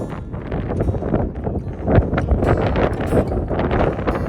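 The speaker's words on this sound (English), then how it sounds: "It is windy up here." Steady wind buffets the microphone on a mountain summit, Vermont's highpoint, with a continuous low roar and gusts throughout, with faint rustling underneath.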